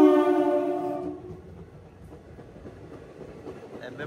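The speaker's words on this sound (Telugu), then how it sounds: "MMTS ఇది" Hyderabad MMTS local train passing, a loud horn-like tonal blast at the start that cuts off after a second, leaving a steady low rumble of moving rail traffic.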